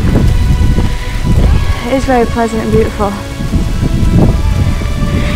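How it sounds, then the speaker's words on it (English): Hail and rain pelting down outdoors on a hilltop in Edinburgh, a steady broadband patter with wind, while a person talks over it and brief bird calls rise in the middle. "The hailstorm's started to calm down a little now"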